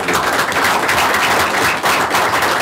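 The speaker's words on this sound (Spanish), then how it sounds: "quiero que le demos un aplauso" Seminar attendees break into applause for a colleague, a loud, continuous wash of many hands clapping with no talking.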